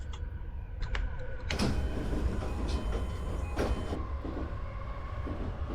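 A Keihin-Tohoku line electric train passing in a Japanese railway simulator game, with a rushing rail roar and repeated clicks and clatters up close, no voices over it.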